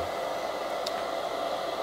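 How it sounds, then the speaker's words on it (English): Hair dryer running on its low setting, a steady, even whoosh of blown air that holds constant and fairly close throughout, with no voices. "I've probably had the dryer on low for about a minute now"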